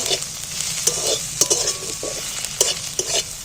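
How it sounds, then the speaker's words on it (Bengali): Onions frying in oil while being stirred, a steady sizzle broken by repeated scraping strokes of a spoon in the pan, close and fairly loud, with no voices. "পেঁয়াজটা একটু নাড়াছাড়া করে লাল লাল করে একটু ভেজে নেব"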